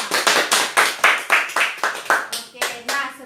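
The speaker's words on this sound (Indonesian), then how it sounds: "Tepuk tangan buat kita semua." Sharp, close hand claps in a classroom ring out about a dozen times in a quick, steady rhythm, then slow and soften near the end as a voice begins speaking.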